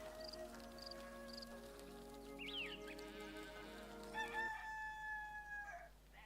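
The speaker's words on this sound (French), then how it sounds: "Ce coq me réveille tous les matins à l'aube." A rooster crows in the video game Black and White 2, with a long drawn-out call over a soft farmyard ambience and a faint rain-like hiss, heard fairly distantly and without talk.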